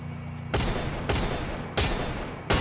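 Gunfire in the battle-royale video game Free Fire: four sharp, loud shots at irregular intervals, each a sudden broadband crack with a short decaying tail, over a steady low engine-like background and no talk.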